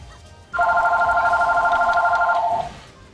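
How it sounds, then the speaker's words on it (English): A phone rings with a single sustained electronic tone for an incoming call, starting abruptly and holding for about two seconds before cutting off, over a quiet background. "Phone call, really?"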